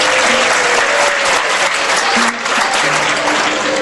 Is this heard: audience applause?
yes